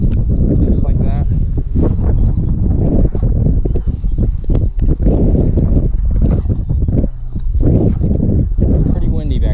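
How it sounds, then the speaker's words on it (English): Wind gusting at a creek bank during bass fishing, loud rough rumbling buffeting the microphone almost continuously, with someone talking underneath. "It's pretty windy back here, guys."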